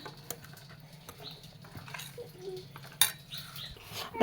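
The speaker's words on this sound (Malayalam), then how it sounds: "ഇതൊന്ന് എല്ലാവരും ഒന്ന് മിക്സ് ചെയ്ത് കൊടുക്കാം." A spoon mixes batter in a bowl, giving soft, irregular clinks and scrapes with a couple of sharper knocks against the bowl. Quiet and close, with no voices.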